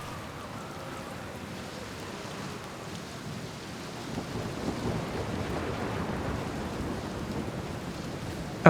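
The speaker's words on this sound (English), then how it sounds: "Oh, that's just thunder." Low rolling thunder rumbles beneath steady rain, building slightly louder midway and lingering as a distant, continuous roar with no voices.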